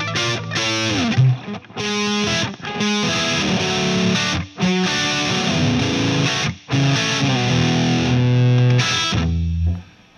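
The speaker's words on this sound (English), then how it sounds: "That's a lot of gain coming from a Marshall, and you can just still hear the clarity between all the notes." Epiphone 59 Les Paul neck pickup with Burstbucker Pro humbucker, played through a high-gain Marshall amp: loud, continuous distorted chords and single notes ringing clearly with brief pauses, no talking.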